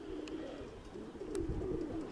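Soft, low pigeon cooing with a few faint higher chirps, quiet and somewhat distant against a steady background hum.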